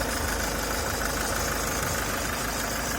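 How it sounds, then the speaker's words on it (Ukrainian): A Toyota Proace van engine idling under the open hood, a steady, even mechanical hum heard close up and alone, with no roughness or extra knocking. "Під капотиком все чисто працює"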